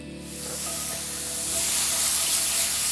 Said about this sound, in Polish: nie soląc pieczarek, żeby nie puściły wody i nie zrobiły się z nich kapcie, będę je smażył